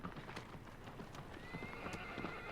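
A horse in Shadow of the Colossus gallops with steady rapid hoofbeats throughout, with a drawn-out whinnying neigh rising over the later half, all at moderate level.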